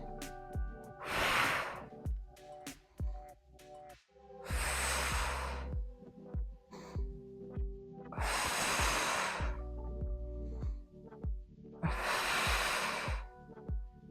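A person doing a full-body mobility and strength workout exhales four times in strong, breathy rushes, evenly spaced several seconds apart, over quiet background music.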